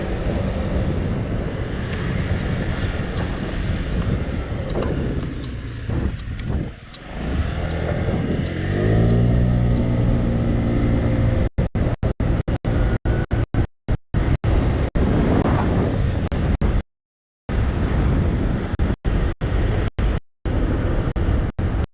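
A scooter riding through Tokyo streets: steady engine drone and road noise under heavy wind buffeting, with traffic passing. Toward the end the sound repeatedly cuts out in brief dropouts.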